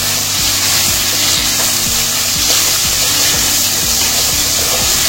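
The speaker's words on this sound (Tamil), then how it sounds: "தக்காளியை சேர்த்து நல்லா கிண்டி வைப்போம்." Tomatoes frying in a pan with onion and garlic, stirred with a spoon: a steady loud sizzle with regular scraping strokes about every second, no voices.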